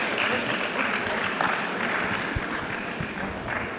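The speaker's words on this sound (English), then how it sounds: "Please, a round of applause for him as well." Audience applause at the Lagos Employment Summit, steady and moderately loud clapping filling the whole stretch with no voices on top.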